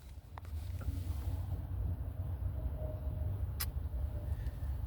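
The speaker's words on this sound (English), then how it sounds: "I think that's the self-driving cars." A self-driving Uber car rolls past outdoors after rain, a steady low road rumble with wind buffeting the microphone, holding at moderate loudness through the whole stretch with a faint brief chirp near the end.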